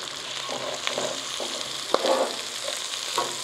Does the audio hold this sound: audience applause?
no